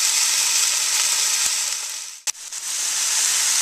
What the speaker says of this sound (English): My veggies have now been cooking for about 8 minutes.